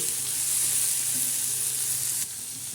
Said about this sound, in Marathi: हे बघा असे मस्त असे तळून घ्यायचे